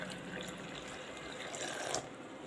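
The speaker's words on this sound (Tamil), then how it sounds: "பாருங்கள், தண்ணி ஊற்றிக்கலாம்." Water is poured steadily into a bowl of rava dosa batter, making a continuous close splashing, trickling stream with a slight swell near the end and no voices over it.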